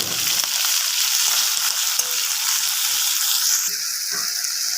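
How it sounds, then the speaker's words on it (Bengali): Prawns frying in hot mustard oil in a wok: a loud, steady, close sizzle that crackles continuously throughout, with no voices. "এবার তেলটা গরম হয়ে গেছে, আমি চিংড়ি মাছ কটা দিয়ে দিচ্ছি"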